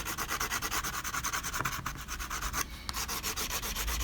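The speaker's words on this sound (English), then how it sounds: "I like to use the side of the crayon to apply my color" The flat side of a crayon scribbled across paper to lay down color on an inky background, a dense rhythmic rasp of rapid back-and-forth strokes with a brief pause partway.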